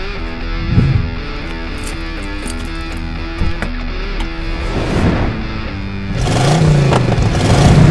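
An engine revs up and surges, rising in pitch and growing louder toward the end, layered over tonal music.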